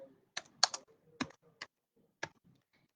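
Short bursts of typing on a computer keyboard as text is entered into a database program. A few isolated keystrokes and quick double taps sound close and clear against near silence, with no talking.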